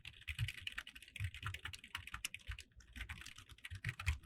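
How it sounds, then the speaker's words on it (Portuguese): Rapid, continuous typing on a computer keyboard while entering text in Notepad on Windows 10, keys clattering in a dense, close, steady stream with no voices. "Porque senão você vai ficar digitando."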